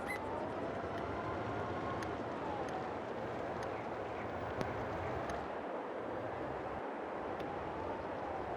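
Steady broadband rumble and rattle of a train ride on an open flatbed railcar carrying equipment, continuous and loud throughout with faint metallic squeals and clanks overhead.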